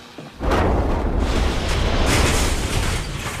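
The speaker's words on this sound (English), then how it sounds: "the sugar dust contacted a nearby ignition source, likely an overheated bearing, and exploded." A sudden loud sugar dust explosion at the Imperial Sugar refinery erupts after a brief quiet moment, followed by a sustained, heavy rumbling roar that slowly eases off.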